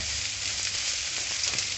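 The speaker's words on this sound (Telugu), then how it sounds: "లో ఫ్లేమ్లో కొంచెంసేపు వేపుకుందామండి." Mutton with freshly ground raw coconut masala fries in a pan over a low flame, a steady, soft, close sizzle with faint stirring and no talk.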